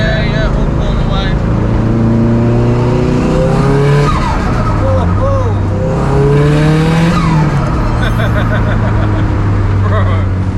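A 556hp Subaru Impreza STI engine pulls hard under acceleration, its rising and falling tones shifting through revs continuously, loud and close, with people talking over it inside the car.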